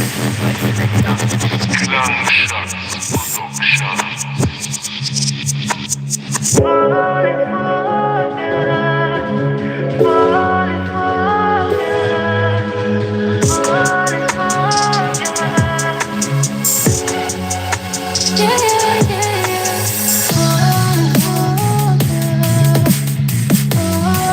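A drum and bass track plays loud and continuous, with punchy drums, a deep bass line and sampled vocal phrases over synth chords.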